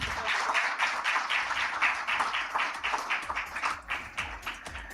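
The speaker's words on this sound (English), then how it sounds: "Please do join me in giving them a big, big round of applause." A conference audience claps in sustained applause, dense overlapping hand claps at steady volume for several seconds.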